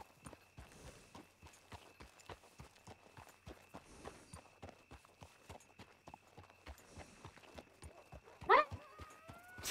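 Horse hooves clip-clop steadily in the Red Dead roleplay game, an even, regular walking rhythm of crisp hoofbeats throughout, with a brief whinny-like burst near the end.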